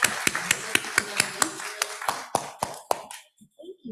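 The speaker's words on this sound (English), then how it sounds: "let's give a big round of applause to Reverend Gordon, Dr. Thornton, and Dr. St" Sparse applause for panelists at a community panel in San Francisco, a few hands clapping close by in a loose rhythm that thins and stops after about three seconds, followed by faint voices.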